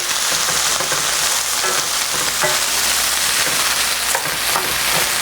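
Diced carrots and sliced mushrooms are stirred together in a hot pan, giving a loud, continuous frying sizzle with scraping stir sounds mixed in. No one speaks.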